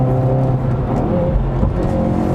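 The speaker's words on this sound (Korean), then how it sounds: "다운시프트 할 때 반응도 빠른데" A 2020 Hyundai Veloster N with an 8-speed dual-clutch transmission drones loudly from the cabin on a race circuit, its engine note shifting pitch as it downshifts, a continuous near roar without speech.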